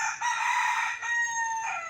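A domestic village rooster crows loud and close, one long sustained call filling nearly the whole two seconds with no talking.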